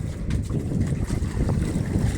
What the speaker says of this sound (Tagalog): Lakas to sa hangin sa laot.